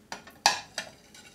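Stencil-painted faience dishes being set down gently, giving a few light ceramic clinks and knocks, one sharper contact in the middle, alone and close by.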